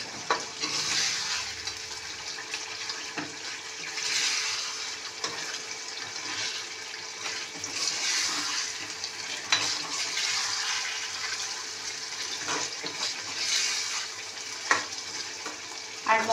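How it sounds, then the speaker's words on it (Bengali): Fresh whole fish being stirred and fried with spices in oil in a pan for Bengali tel koi, a steady sizzle with scraping spatula strokes recurring every second or two, close and continuous. "এবার মশলা দিয়ে একটু কিছুক্ষণ এটা একটু কষাবো, যাতে মাছের মধ্যে মশলাগুলো ঢোকে।"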